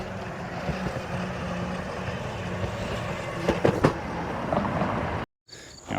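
Small electric motors of a remote-control vehicle whir steadily outdoors on a sidewalk, with a few sharper clattering bumps near the middle and a brief dropout near the end.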